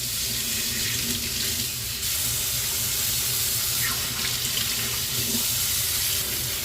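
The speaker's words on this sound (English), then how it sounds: "So right now I have turned the hot water on" Hot water runs steadily from a kitchen sink tap into a clogged sink, a continuous close hiss and splash that holds at the same level throughout with no talking.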